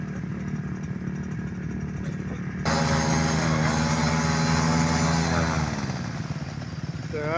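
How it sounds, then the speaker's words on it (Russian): Motocross motorcycles at a children's autumn training session idle while warming up, a steady rattling engine drone that grows louder as a second bike joins in, with revs rising and falling near the end. "Пока мотоциклы греются"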